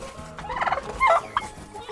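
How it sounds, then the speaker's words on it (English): Homestead turkeys gobble close by, with several quick rattling gobbles in a short burst that rise and fall over one another, loud and clear with no talking. "Those are my turkeys."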